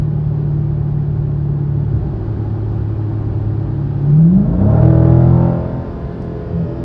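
A Dodge Challenger 1320 drag car engine runs at a steady low rumble, then revs up hard midway, the pitch sweeping higher and louder before easing back down to idle, heard alone without talk.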